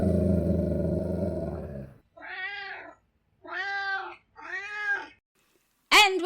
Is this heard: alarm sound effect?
no